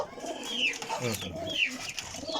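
Pigeons coo close by in a loft of paired birds for sale, soft repeated throaty calls with someone talking over them.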